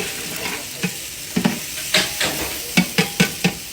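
Onions sizzle and fry with whole spices in a large pot of oil, a steady hiss broken by a series of sharp stirring scrapes and clatters that grow more frequent toward the end.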